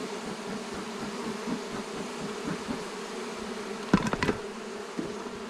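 Honey bees drone steadily in a queen-rearing cell builder hive, a dense close buzz with a few brief knocks near the end.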